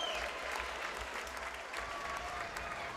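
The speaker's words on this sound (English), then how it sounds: "How about a nice round of applause for these two fighters?" A crowd applauds two fighters after an MMA bout at a Chosen Few Fighting Championship event, with steady, dense clapping that fills the whole stretch under a low hum of arena noise.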